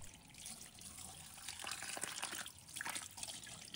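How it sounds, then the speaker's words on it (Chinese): A pumpkin rinsed under running tap water in a kitchen sink, a steady close splash and trickle lasting the whole stretch with small shifts as the gourd is turned, and no talk. "用流动水把它清洗干净，去掉表面的灰尘和杂质"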